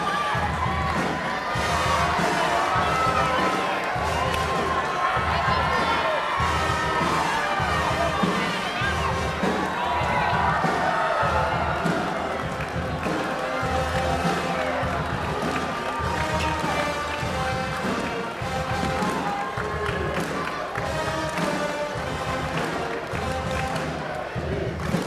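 Dense, steady roar of a basketball crowd in a gym at a College of the Ozarks national tournament quarterfinal, held through a timeout, with cheering, shouts and rhythmic pulses throughout and no gaps.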